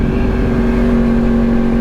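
A motorcycle ridden at night is heard from inside a helmet with the visor raised: a loud, constant engine drone blended with heavy wind roar, steady throughout with no pauses.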